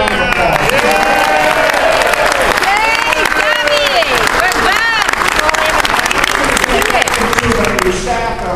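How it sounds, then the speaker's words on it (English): Loud, sustained crowd applause and cheering at a packed political campaign rally for former House Speaker Newt Gingrich, dense clapping mixed with shouts and voices filling the whole stretch without letup. "Let's give them a round of applause."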